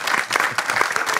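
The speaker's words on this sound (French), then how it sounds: "Et on l'applaudit bien fort." A studio audience applauds a chef on a French cooking show making Breton salted-butter galettes: a short burst of brisk, lively clapping, close and full throughout.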